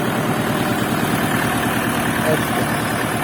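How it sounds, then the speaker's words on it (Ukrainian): A KENTAVR 404S tractor engine idles loudly and close, a continuous low chugging rumble with even rhythm throughout. "Такий тракторець."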